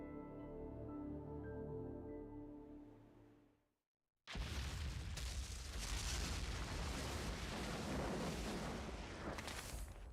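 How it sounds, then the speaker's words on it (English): Explosion in a Devil May Cry 2 video game cutscene: after a tonal musical passage and a brief silence, a loud, dense burst of roaring, crackling noise fills the rest of the clip without a break. "That explosion is never explained."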